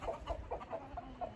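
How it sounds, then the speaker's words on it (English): Silkie chickens cluck repeatedly in a free-range backyard flock, a steady run of short, fairly close calls roughly every quarter second with no talking. "These silkies are being rowdy today"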